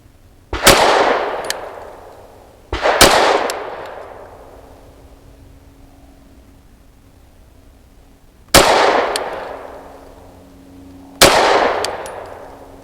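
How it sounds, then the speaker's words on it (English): Four sharp pistol shots from a KOR FX-9 RP fired at a target seven yards away, spaced unevenly in two pairs, each loud crack trailing off in a short decay with no talking. "5 shots from 7 yards"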